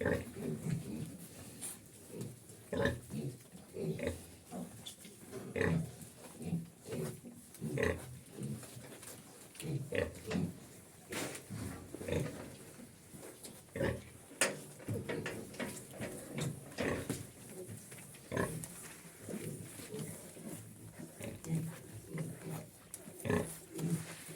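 Pigs in a straw-lined pigsty keep up a long run of grunts, snorts and squeals, bursting irregularly, close but low in level, with occasional knocks around a trough.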